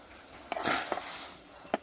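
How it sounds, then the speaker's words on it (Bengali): Date palm jaggery heated and stirred in a pan for pitha, giving a soft steady sizzle with a few sharp scrapes and clinks of a utensil against the pan, close by and without speech. "নলেন গুড়টাকে ভালো করে জাল করে নেব দুই তিন মিনিট সময় নিয়ে"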